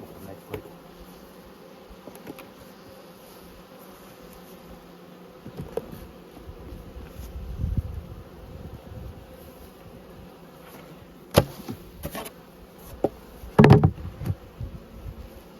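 Honey bees hum around a dry pollen feeder made from a honey bucket with half its lid cut away, a faint continuous buzz with occasional louder passes and a few knocks.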